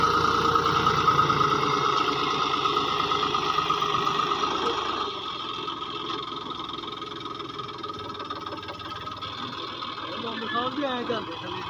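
A steady tractor engine drone runs throughout while forming ridges in a potato field, loud at first, then somewhat quieter and rougher. A few faint rattles come near the end.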